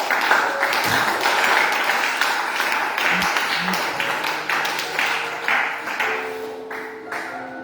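A church congregation applauding at a service, steady dense clapping held for several seconds and slowly thinning toward the end.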